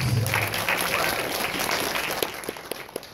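Fan convention panel audience at FanExpo Dallas claps, a fairly quiet wash of applause that thins out toward the end into a few scattered, distinct claps, with a low voice briefly at the start.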